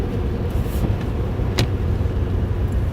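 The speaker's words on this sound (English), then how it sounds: "Sorry, the traffic was loud." Loud road traffic in snowy weather, a constant roar of passing cars with a sharp click partway through, close and continuous, with no voices.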